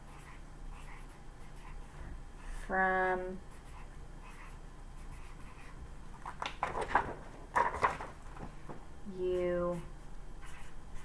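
A pen scratches across paper while a pen pal letter is written, its quiet strokes running underneath a person speaking steadily.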